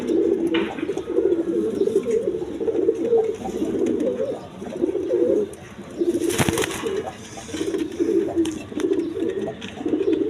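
A pair of breeding ghiyashulli pigeons coo steadily and close by in low, rolling phrases with short pauses, and a brief rustling burst rises midway with no talking.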